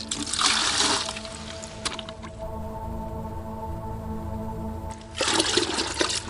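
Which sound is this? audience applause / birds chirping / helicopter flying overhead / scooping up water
scooping up water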